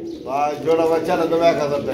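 A khaki pigeon coos close by in a low, throaty, wavering call that rises and falls over about two seconds.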